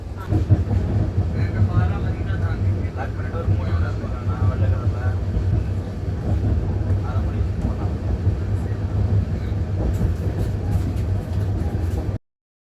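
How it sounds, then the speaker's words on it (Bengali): Steady rumble and rattle inside a moving passenger train leaving Kanyakumari toward Tirunelveli in southern India, continuous wheel and carriage noise throughout with faint voices mixed in the background. "ট্রেন কন্যাকুমারী থেকে ছেড়ে দিয়েছে"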